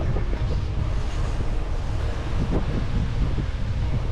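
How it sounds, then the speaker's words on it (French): Constant roaring buffet of headwind and crosswind striking the microphone while cycling the ViaRhôna cycle route toward Aigues-Mortes, a loud, steady low rumble with no speech. "je suis de nouveau avec le vent de face et de travers un petit peu"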